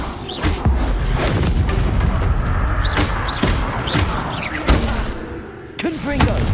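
Bombarda explosion spells in the Hogwarts Legacy video game, several sharp blasts and thuds spaced a second or so apart amid combat noise, with shouted voices between them.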